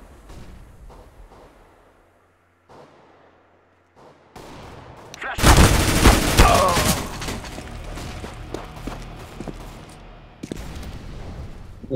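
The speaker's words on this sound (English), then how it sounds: "I'm throwing a grenade. I'm throwing a flashback." A flashbang grenade goes off in Counter-Strike: Global Offensive: a quiet stretch, then one sudden loud bang with a ringing, crackling tail that fades over several seconds before another short burst of game noise.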